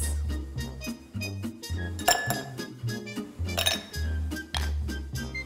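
Ice cubes clinking and clattering into a glass for an orange, pineapple and apple juice mocktail, several bright chinks over a steady backing beat of music.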